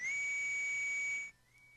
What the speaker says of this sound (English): Proto Man, I think you need to get your whistle retuned and stuff.